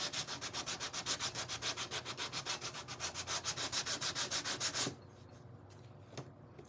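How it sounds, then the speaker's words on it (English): Charred wood, used for building a lemonade stand, being hand-sanded in fast, steady rhythmic strokes, loud and close, then stopping abruptly; one light knock follows in the quiet. "I'm gonna sand it."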